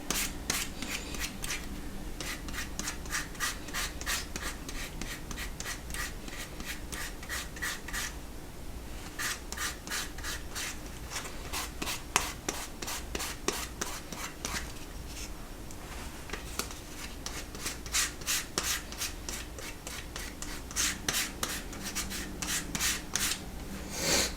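Steady back-and-forth rasping of sandpaper on wood, a continuous run of rhythmic strokes close by with no talking.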